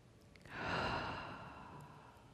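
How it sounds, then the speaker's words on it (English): A single long, soft exhale demonstrated as a meditation breathing technique, swelling gently and then tapering off slowly, close and quiet with no talking. "like you're exhaling, the breath comes up like this"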